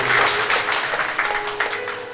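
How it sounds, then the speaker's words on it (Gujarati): Audience applause at an association honouring ceremony for Corona warriors in Amreli, a short burst of dense, steady clapping from a crowd indoors, with a faint hum running underneath. "તાળીઓના સાથે આપણે સન્માનને વધાવીશું."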